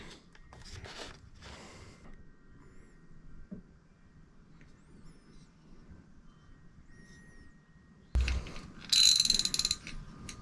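A Daiwa Caldia SW 8000H saltwater spinning reel is turned by hand up close, giving soft, faint mechanical ticking and gear whirring, with a sharper burst of clicking and rattling near the end.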